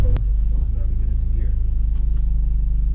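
A car engine idling roughly, a loud low throbbing pulse that wavers unevenly and keeps running throughout, with a voice talking faintly over it.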